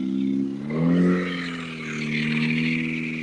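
A rock crawler's small supercharged 4-cylinder engine revs close by, its droning note swelling, dipping and rising again in short pulls.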